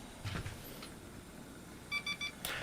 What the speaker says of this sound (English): my test bench with the EVGA board on it beeps and shows a VGA error